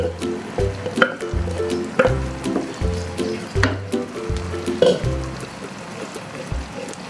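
Spice paste poured into a hot pan and sautéed gives a wet sizzle with squishy bubbling, overlaid by a repeating musical tone and periodic low thumps as the mixture is stirred.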